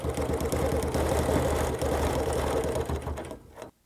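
A sewing machine stitches quilt binding with a fast, steady mechanical whir and needle clatter, close and continuous, slowing and stopping just before the end.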